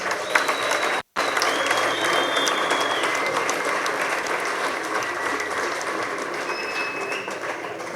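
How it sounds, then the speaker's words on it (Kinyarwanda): An event audience claps densely and continuously, a loud unbroken wash of applause with a momentary cut near the start and no voices. "mwabahaye amashyi."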